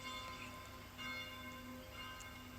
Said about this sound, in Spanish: Con las campanas del monasterio de Silos iniciamos nuestra consagración del tercer día.